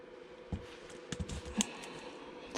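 Plastic keys snap off a heavy scrap keyboard, a few sharp clicks and cracks spread out over a faint background hum, close but fairly quiet.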